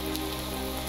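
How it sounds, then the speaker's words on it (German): Steady, dense rain in the Minecraft video game hisses loudly and evenly throughout, with no other sounds over it. "Wenn der Regen weg wäre."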